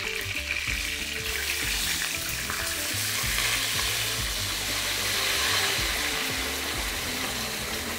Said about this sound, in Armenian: Տապակվելուց հետո ավելացնում ենք արգանակը։